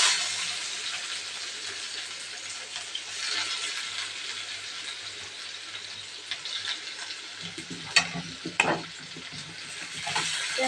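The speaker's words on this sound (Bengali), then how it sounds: "পেঁয়াজটা লাল লাল মতন করে ভেজে নেব।" Onion frying in oil with whole cumin seeds and two dried chillies: a constant bright sizzle, joined in the later seconds by a few stirring scrapes and knocks in the pan.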